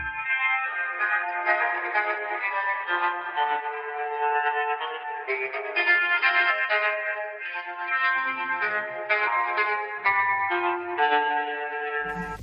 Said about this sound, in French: J'aime beaucoup les guitares que l'on peut entendre en arrière-plan.